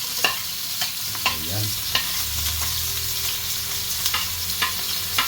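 Garlic, ginger and onion sautéing in a pan: steady loud sizzle with regular scraping stirs of a utensil, and a brief word spoken once.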